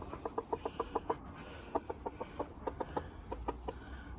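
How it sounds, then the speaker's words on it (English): Farmyard chickens cluck in a steady, rapid series of short, clear calls close by. One hen is turning broody. There is faint outdoor background and no talk. "Where are all you chickens laying to?"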